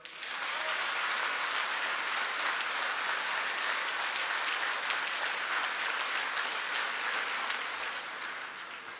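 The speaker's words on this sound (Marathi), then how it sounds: "जोरदार टाळे वाजवा." A large crowd claps loudly and steadily at an election rally for the Solapur Zilla Parishad and Barshi Panchayat Samiti polls, a dense wash of applause running without a break and easing slightly toward the end.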